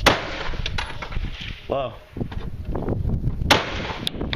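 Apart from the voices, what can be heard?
gunshots at a shooting range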